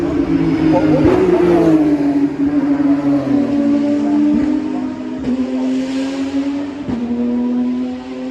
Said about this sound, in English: there's the launch of the safety car